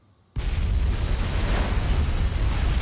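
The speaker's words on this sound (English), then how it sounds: "And then the explosion happens." A sudden loud video game explosion bursts out of near silence, then a dense, sustained roar with a heavy low rumble fills the rest of the moment.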